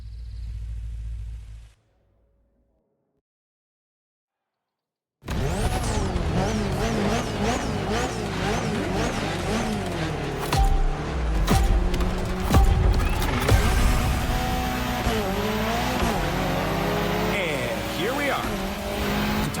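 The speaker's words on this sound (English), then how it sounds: "He's going to drive the Alpines today." Alpine race cars drive in the video game The Crew Motorfest, engines revving and shifting continuously with tire noise after a brief silence, loud and close, while people talk over the engines.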